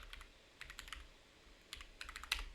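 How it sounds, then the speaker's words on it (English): Computer keyboard typing in bursts of quick clicks close to a microphone, with short pauses between flurries and a low background hum underneath. "my keyboard's right behind my mic"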